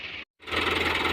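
A Dabang tractor, 23 model, working a millet field after rain: a steady mechanical drone with a low rumble, cut by a brief silence before it resumes, loud and even.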